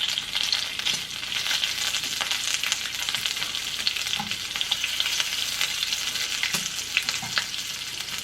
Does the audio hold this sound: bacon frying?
yes